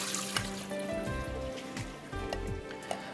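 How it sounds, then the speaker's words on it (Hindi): Water drained off chopped, peeled apples in a home kitchen, a steady close trickle and splash lasting the whole moment with a few small clinks, no talking. "अब पानी ड्रेन कर देते हैं।"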